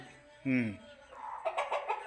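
Country (desi) chickens cluck at close range in a short burst, with faint rural background noise and some voices nearby.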